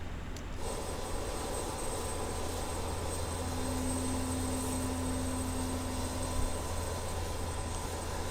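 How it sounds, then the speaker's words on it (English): An RJ100 airliner's jet engine spools up in Microsoft Flight Simulator, a steady broadband roar with a low hum and a rising tonal whine that holds for several seconds, loud and continuous with no voices. "the lights are dimmed as all the power gets diverted to firing up these wonderful engines"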